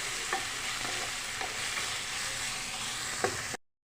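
Ginger-garlic masala for an Andhra-style chicken curry sizzles steadily in a pan while a spoon stirs it with a few soft scraping knocks, close up, then cuts off abruptly.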